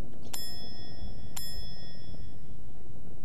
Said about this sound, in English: I wonder if I can press the bell.